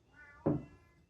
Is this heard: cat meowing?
yes